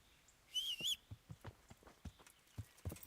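Horse hooves clopping in Kingdom Come: Deliverance, a run of faint, evenly spaced thuds from a ridden horse, with a brief whistling tone early on.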